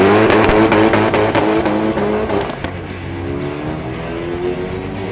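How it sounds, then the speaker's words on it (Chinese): A car on cold performance tires pulls away hard from a standstill, the engine note climbing loudly through a couple of quick gear changes, then settling into a steadier, slightly quieter drone. "现在我们来测试冷胎的加速时间"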